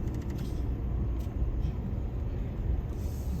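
A pickup truck drives along with a continuous low rumble of engine and road noise, steady and fairly quiet, with no voices.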